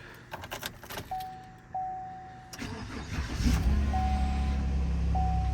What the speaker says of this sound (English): figured I'd give her a whirl on starting her